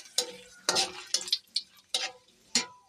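Cumin, dried red chillies, cinnamon pieces and bay leaves frying in hot oil for a jackfruit curry, heard as a series of short, sharp sizzling bursts and crackles separated by quieter gaps.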